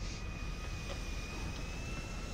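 Airplane engine in the video game GTA 5, a faint, steady droning hum topped by a thin, constant high whine, unbroken over the short stretch.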